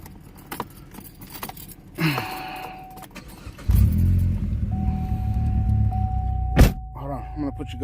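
A car engine cranks and starts partway through, settling into a low, steady idle rumble, with keys jangling and door clunks before it and a warning chime pinging during it.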